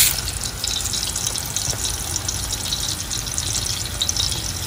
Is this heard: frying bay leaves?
yes